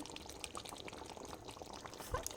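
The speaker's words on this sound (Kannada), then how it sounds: "ಇವಾಗ ಕ್ಯಾಶ್ಯೂ, ಬಾದಾಮ್ ಎಲ್ಲ ಪೇಸ್ಟ್ ಮಾಡಿದ್ನಲ್ಲ ಅದನ್ನು ಹಾಕ್ಕೊತಾ ಇದ್ದೀನಿ" Cashew and almond paste poured into simmering chicken curry in a pot, giving a faint, soft, wet sloshing pour that runs steadily for a couple of seconds with no talking.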